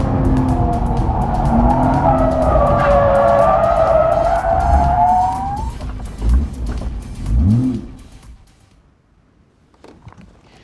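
A Lotus Exige S sports car spins out on a race track: a loud engine note rises and falls, then tyres squeal and skid in sharp bursts before the car settles into near silence.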